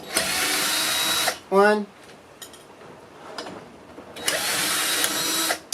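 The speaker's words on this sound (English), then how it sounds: "So now we just remove these 4 screws." Phillips screws come out of a Porsche 944 headlight in two loud whirring bursts, one at the start and one near the end, with a short spoken word between them.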